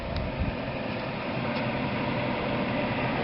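A portable air conditioner in an RV blows a steady, even whoosh of air out of its vent, a continuous close broadband hum with no speech over it.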